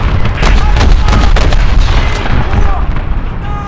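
Auto cannon fire from a tank in a combat video game, loud dense booming bursts over continuous rumbling battle noise with no talk.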